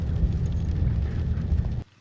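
Steady rain pours down outdoors in Phetchabun, a dense, even hiss of falling drops that cuts off abruptly at the end, with no voices.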